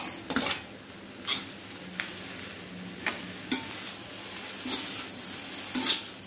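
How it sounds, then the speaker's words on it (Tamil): Fried rice being stir-fried in a pan over a high flame: a steady sizzle runs throughout, broken by sharp scraping and clanking strokes of the spatula at irregular intervals, close and moderately loud, with no talking. "இப்போ இதை நல்லா ஃபுல்லாக கிண்டிட்டு நம்ம ஹை ஃப்ளேமில் வச்சு அதெல்லாம் வந்துட்டு கிண்டி விட்டுருந்தோம் மறுபடியும்"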